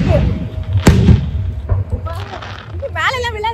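Diwali fireworks burst overhead at a street festival in an American parking lot, with a couple of sharp, booming cracks amid crowd noise while people talk nearby.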